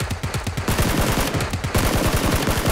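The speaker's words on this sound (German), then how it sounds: "Auf mich wird gerade geschossen, aber ich weiß nicht von wo." Rapid bursts of automatic gunfire from the battle royale game PlayerUnknown's Battlegrounds (PUBG), loud and close, with two fast volleys of repeated shots separated by a brief pause.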